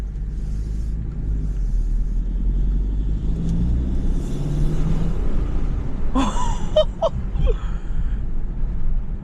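A BMW G20 330 engine fitted with an aftermarket intake rumbles steadily, low and close, with a brief burst of higher mechanical noise near the end; no clear sharp rev climb.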